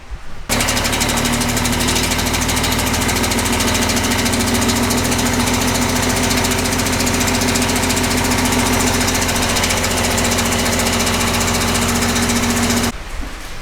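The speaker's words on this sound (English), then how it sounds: "I'm gonna go ahead and fire it up and see if it's still leaking." A diesel dump truck engine cranks and starts, then idles loud and steady with a dense, knocking rumble for about twelve seconds before cutting off abruptly.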